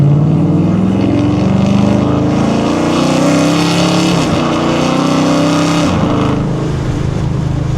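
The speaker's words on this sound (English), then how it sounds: "I know you guys see how smooth that limiter is. That limiter is very smooth." A cammed Dodge Challenger R/T revs hard and loud up close, its engine droning high and steady, then stutters twice against a smooth rev limiter before easing slightly and pulling again.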